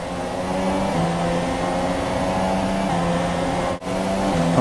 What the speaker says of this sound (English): when we are behind Magnussen, I can hear his engine making some interesting noises. You might be able to hear that.